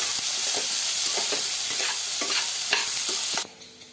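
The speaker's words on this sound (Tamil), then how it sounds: "உப்பு சேர்த்துட்டு நம்ம வந்து வதக்கிடலாம்." Onions with salt sautéing in a pan, a loud close sizzle broken by repeated scraping stir strokes, then abruptly dropping away near the end as the pan goes quiet.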